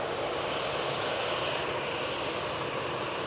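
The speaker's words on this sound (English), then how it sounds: "A319 in front of us now." An Airbus A319 at Manchester Airport gives off a steady, moderately loud broadband engine roar that holds constant throughout with no breaks, heard from a distance without any talk.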